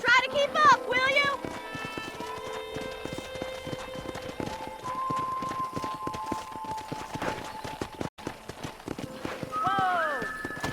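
Horses trot at a brisk, steady clip-clop on a Red Dead Redemption ride past a corral, with a whinny near the start and voices talking over the hoofbeats.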